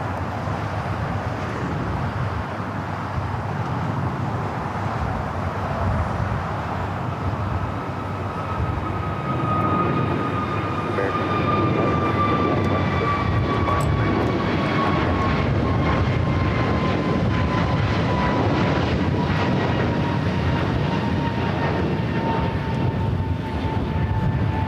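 An Austrian airliner takes off from LAX, a loud, sustained jet roar lasting the full stretch, with a rising engine whine that slowly falls in pitch as the plane climbs away.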